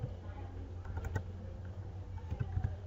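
Computer keyboard typing placeholder text into an HTML code editor: quick, light keystrokes in short bursts over a steady low room hum, fairly quiet.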